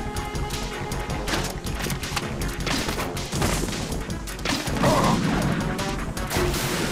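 Explosions and crashing blasts from thrown bombs in Metal Gear Solid 2: Sons of Liberty, a cluttered run of impacts and booms with one heavier burst near the end, moderately loud and without talk.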